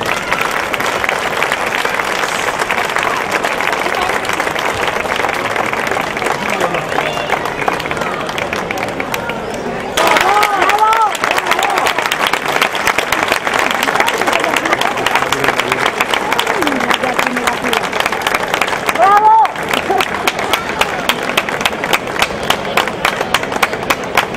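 Sustained applause from a large crowd at a town festival opening, dense and continuous clapping with a few short dips, loud and filling the room.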